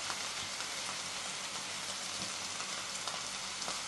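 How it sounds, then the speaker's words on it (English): Steak searing in hot oil in a pan, a loud, even hiss and crackle that holds steady throughout, close up and without any talking. "I'm gonna sear my steak about 45 second each size"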